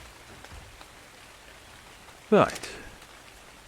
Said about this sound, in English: I was waiting for the rain effect to come into play.